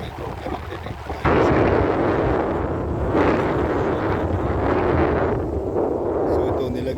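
Gusty wind buffets the microphone at the seaside during evening fishing, a loud rumbling roar that surges and eases in waves.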